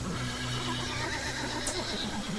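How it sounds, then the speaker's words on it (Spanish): A horse neighs nervously in a single drawn-out whinny with a faint hoof clop, sounding fairly close against a steady background. "el caballo empezó a relinchar muy nervioso, avisándoles de algo"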